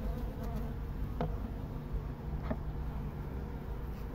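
A dense, steady hum of many honeybees buzzing close by in a hive treated with formic acid, continuous and moderately loud, with a few faint clicks.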